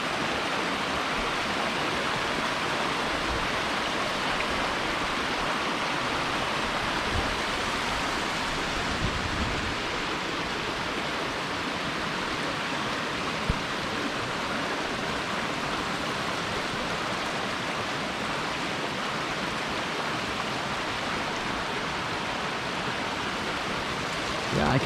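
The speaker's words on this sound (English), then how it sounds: "Nice little waterfall here." A small waterfall beside a bridge on the Bruce Trail pours in a steady, broadband rush, close and continuous throughout with no talking over it.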